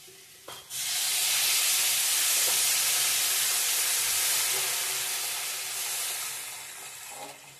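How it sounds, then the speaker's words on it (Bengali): Water poured into a hot wok where spice paste for a paneer and potato curry is sticking, erupting into a loud, steady hissing sizzle with steam that slowly eases off over several seconds. "লেগে যাচ্ছে কড়ার মধ্যে মশলাটা। জল দিয়ে দেই।"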